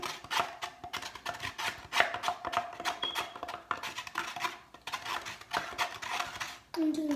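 Slime from a kit being mixed with glue solution, producing rapid wet clicking and squelching strokes in a steady irregular rhythm, close up, with a faint voice now and then.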